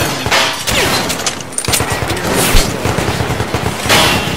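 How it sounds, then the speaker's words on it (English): Shotgun in the video game Metro: Last Light fires repeatedly in loud, booming blasts amid dense combat noise, several heavy reports spaced across a few seconds. "Shotgun."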